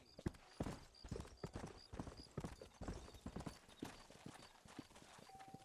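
Horse hooves clip-clop along a trail in the video game Red Dead Redemption, a quiet, steady trotting rhythm of sharp hoof knocks repeating through the whole stretch.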